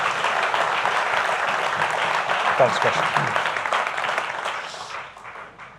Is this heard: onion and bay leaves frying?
no